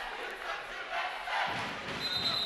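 Crowd at a college basketball game between the DSU Hornets and NC A&T Aggies, a steady roar of voices cheering and shouting across the arena, with a whistle-like tone near the end.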